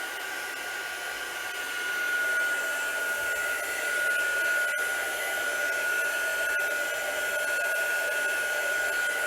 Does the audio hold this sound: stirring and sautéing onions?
no